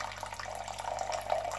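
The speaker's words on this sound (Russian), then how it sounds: "Смешиваем уксус и воду температурой 55 градусов Цельсия" Water pours steadily into a mixing vessel, warm water at about 55 °C being added to vinegar for a rye sourdough starter, a soft, close trickling without talk.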